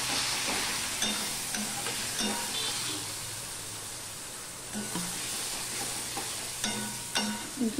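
Cumin powder, chili powder, turmeric and a splash of water are stirred in a pan, giving a soft sizzle under repeated spatula scrapes and taps that come at an uneven pace.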